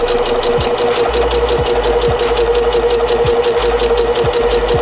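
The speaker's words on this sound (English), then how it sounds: "I'm just gonna do a really loose stitch through this." A sewing machine runs steadily through fabric on a loose stitch, a loud, close, continuous mechanical whir with a rapid rhythmic needle clatter and no talking.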